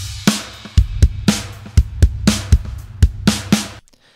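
Drum kit preview from the free BFD Player software using the Dream State preset: a steady groove of punchy kick and snare hits with bright cymbal wash, about a dozen strikes in four seconds, loud and close, ending abruptly.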